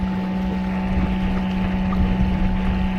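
Small boat pushed along against the tide by a ThrustMe Kicker electric outboard motor, giving a steady close hum with a constant whine, wind and water rush around it.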